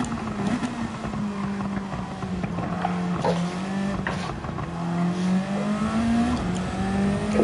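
Race car engine in Gran Turismo 7 during an online Nations Cup race, a continuous moderately loud whine that dips as the throttle lifts and climbs again with speed, with faint tire noise underneath.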